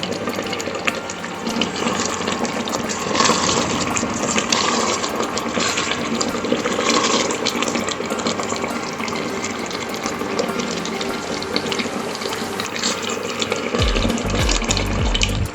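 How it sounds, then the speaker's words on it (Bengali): A cup of hot water poured into mutton korma, a steady rushing, splashing flow that holds at an even, fairly loud level for the whole stretch, with no voices over it. "এরপরে বন্ধুরা আমি বড় কাপের 1 কাপ জল দিয়ে দিচ্ছি, গরম জল।"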